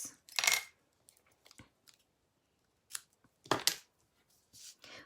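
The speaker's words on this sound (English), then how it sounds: "Let me just grab my tape scissors." Tape scissors for card-making are picked up and handled nearby, with scattered clicks, rustles and metallic clinks in short bursts separated by quiet gaps.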